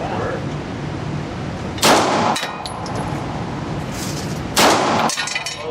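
Two sharp, loud pistol shots from a Beretta 92FS go off a few seconds apart, each with a ringing metallic tail, over a steady background hiss at an outdoor range.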